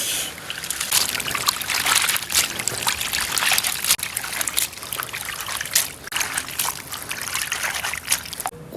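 Running water rinses blanched shrimp tails in a kitchen, a steady close splashing and trickling wash that continues without break for several seconds.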